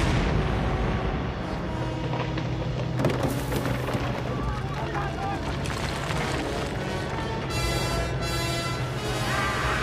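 Artillery guns fire at a dam in a monster film, a dense rumbling barrage with sharp blasts standing out over a constant low roar, loud and continuous throughout.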